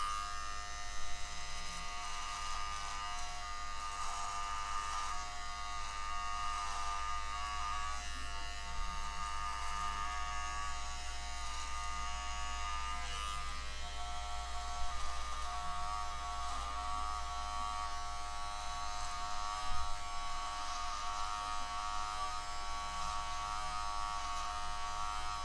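Electric beard trimmer lining up a beard's neckline, a steady close buzzing hum with a constant motor tone that runs unbroken throughout, no talking.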